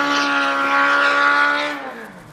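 A BMW 520d G30 xDrive with a 190-horsepower diesel engine runs close by, giving a steady droning hum that rises slightly in pitch and then settles back as it eases off, with no talking.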